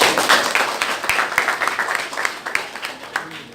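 Classroom audience applauding after a student presentation, a steady patter of many hands clapping at moderate loudness for the whole stretch.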